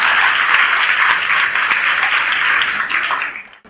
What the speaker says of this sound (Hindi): जोरदार तालियां ना, हैप्पी मदर्स डे।